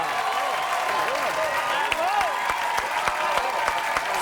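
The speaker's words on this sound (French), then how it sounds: "On applaudit Denis Bouchard" A studio audience applauds on a French-language Quebec TV show, a steady wash of clapping that runs under a man's sustained singing or vocalizing throughout.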